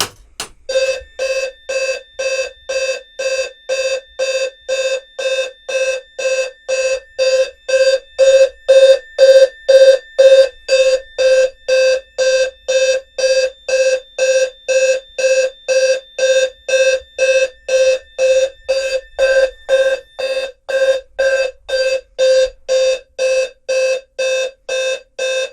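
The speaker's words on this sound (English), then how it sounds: "the low-frequency 520 Hz tone, it's really more jarring than anything because of the deep pitch" A fire alarm blares a deep, low-pitched 520 Hz tone in rapid, evenly spaced pulses, loud and close, repeating steadily for the whole stretch with no voices.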